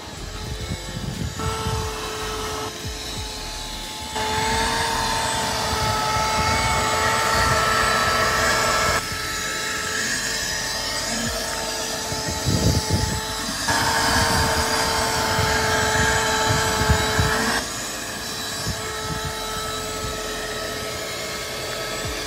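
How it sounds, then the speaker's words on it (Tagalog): A vacuum cleaner runs for a long stretch, a steady whining motor hum whose pitch and loudness shift several times as it works, with some knocking and rustling in the middle. "mag-vacuum."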